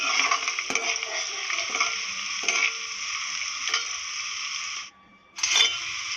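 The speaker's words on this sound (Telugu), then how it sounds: "పసుపు వేసి మంచిగా మిక్స్ చేయాలండి, కలపాలి." Onions with turmeric and chili stirred in a sizzling pan, a steady bright frying hiss broken by spatula scrapes and knocks, briefly dropping out before the sizzle returns.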